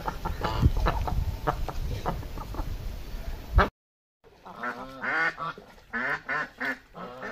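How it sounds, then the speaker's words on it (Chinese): Ducks and chickens on a rural farm, where a goose is also kept. Busy clucking and scattered calls come first over background noise, then after a brief silence a run of clear, repeated nasal quacks follows close by. "现在他来把鸭子赶上来"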